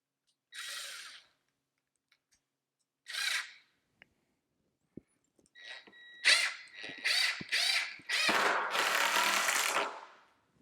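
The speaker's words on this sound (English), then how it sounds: "And I'll take my drill." A handheld power drill drives screws into a trailer brace and hoist, in short separate bursts at first, then a run of longer whirring pulls as a screw sinks in, close and loud.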